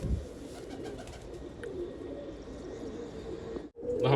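Low, throaty cooing from purebred pigeons standing in a net enclosure rolls on almost without pause, close and steady. There is a brief dropout near the end, then the calls resume.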